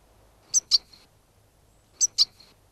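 A shrike imitates a goldfinch contact call: two pairs of sharp, high chirps separated by a pause, close and clear against a quiet background.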